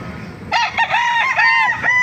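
A champion-quality farm rooster crows loud and close, one drawn-out cock-a-doodle-doo call with a wavering, rising and falling pitch, heard alone.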